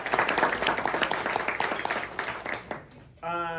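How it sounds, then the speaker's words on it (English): Audience applause at a luncheon fills the room with dense, fairly close clapping that tapers off over a few seconds before a voice begins speaking. "Let's give them a round of applause."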